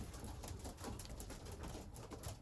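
Young racing pigeons, cock birds kept in a loft after the racing season, cooing softly and continuously at a distance, low throaty murmurs beneath a steady background hiss.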